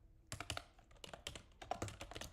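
Rapid clicks of typing on a computer keyboard come in uneven bursts of keystrokes, close and fairly quiet, with no voices.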